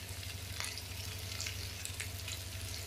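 Chopped potatoes frying in a pan, a faint, steady sizzle with light crackles over a low constant hum, no one speaking.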